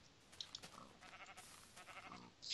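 A faint sheep bleats in a blocky survival video game, one short wavering call set against quiet background game sounds.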